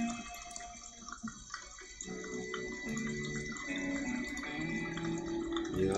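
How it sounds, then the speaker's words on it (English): Water running from a sink tap into a glass in the Thimbleweed Park video game, a soft steady trickle under quiet tonal background music. "The glass is now filled with water."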